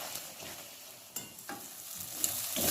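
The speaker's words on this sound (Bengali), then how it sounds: "মশলাটা আমি ভালো করে কষিয়ে নেব।" Spice masala of curd, cumin, coriander and chili powder cooking in a pan for chole, a soft continuous sizzle with occasional light scrapes and stirring knocks.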